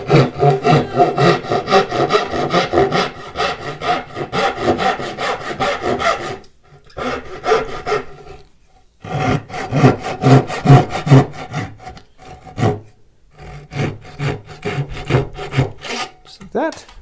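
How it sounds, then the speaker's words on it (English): A dovetail saw cuts dovetails in wood for a flower box, with rapid rhythmic back-and-forth rasping strokes, loud and close, in several bursts separated by short pauses. "Didn't quite cut all the way down with the dovetail saw on the first time."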